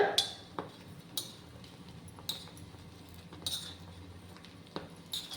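Eggs frying in a pan are turned over with a utensil, giving sharp, bright clinks and taps of metal against the pan at irregular intervals over a faint sizzle.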